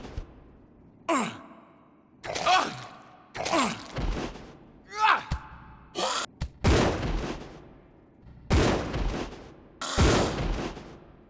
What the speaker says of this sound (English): I decided to test the shotguns on one of this game's exclusive enemies, the Eliminator